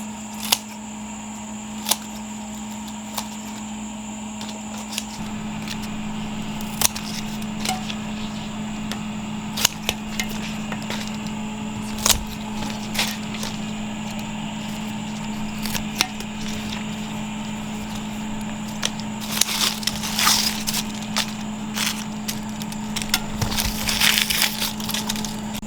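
Dead porch plants being chopped up outdoors at dusk: sharp, irregular snapping cracks spaced a few seconds apart over a steady low hum, growing denser and rougher toward the end, with no talking.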